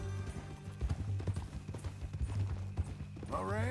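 Horse hooves clip-clopping in the video game Red Dead Redemption 2, a steady irregular run of hoofbeats under background game music, with a brief whinny-like sound near the end.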